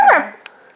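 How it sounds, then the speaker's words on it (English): A dog whimpering and crying at close range, one high, wavering whine that slides downward and trails off, with a tiny click after it and no other sounds. "Do you hear that? That's my dog, Carson."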